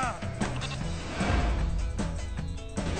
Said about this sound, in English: Sheep! Too much sheep.